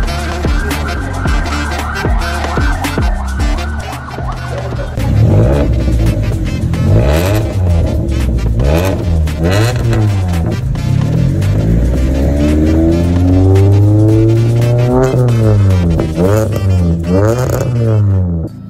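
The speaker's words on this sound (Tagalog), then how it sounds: "tapos na natin itong cutback exhaust ni Sir Kokoy de Santos" MG ZS fitted with a catback exhaust revving in loud, repeated rising and falling sweeps, close and continuous, with the engine note climbing and dropping over and over.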